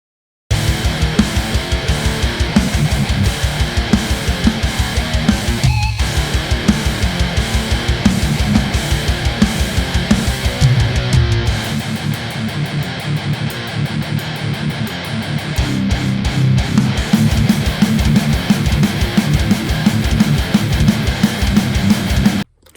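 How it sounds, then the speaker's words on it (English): Studio playback of a rough mix with only electric guitar and drums, no bass or vocals: loud, dense distorted guitar over fast, steady drum hits, with a brief drop in the low end midway before the full sound returns. "So this is just guitar and drums at this point. We haven't recorded any bass or vocals, and it sounds like this."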